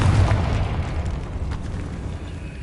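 A Confringo blasting spell explodes in Hogwarts Legacy, a loud, dense, rumbling boom that fills the whole moment and slowly fades without any pause.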